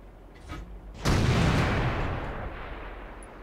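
A tank cannon shot in World of Tanks, one loud near boom with a long rolling tail after a short lead-in.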